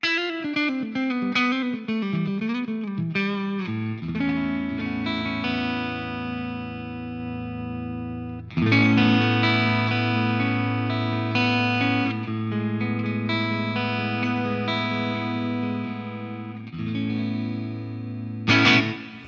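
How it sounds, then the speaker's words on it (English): Clean electric guitar tone from an STL Tones AmpHub amp preset with reverb, picked notes and strummed chords ringing and decaying into a roomy tail, played alone without voices. "So that obviously has a reverb on it."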